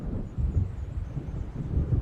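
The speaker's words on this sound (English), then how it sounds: "It seems there's a storm coming." Low, rolling thunder from an approaching storm in the video game Alan Wake Remastered, a brief deep rumble that swells and fades.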